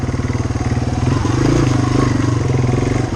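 A Yamaha TW200 motorcycle crawling along a trail in first gear, its single-cylinder engine thumping at a low, steady, rapid pulse, close and loud, with a slight swell in revs midway.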